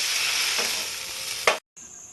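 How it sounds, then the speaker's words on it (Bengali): Bombay duck (lote) fish fries in hot oil in a pan with a steady, bright sizzle and faint stirring scrapes. A sharp clatter follows, then a brief silence, and the sizzle resumes more quietly. "মাছটা আমার মোটামুটি ভাজা হয়ে গেছে"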